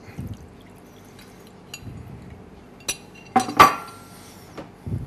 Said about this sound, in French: nous allons filtrer le jus dessus